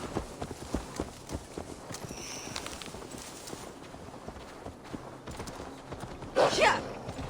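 Horse hooves clip-clopping in a steady walking rhythm in the video game Assassin's Creed Valhalla, close and clear, with a brief louder rustling burst near the end.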